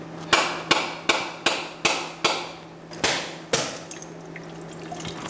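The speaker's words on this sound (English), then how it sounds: "I'm gonna try and bust the coconut open" A series of sharp hammer blows striking a hard coconut shell, about eight evenly spaced knocks, close and distinct, each ringing briefly before the next.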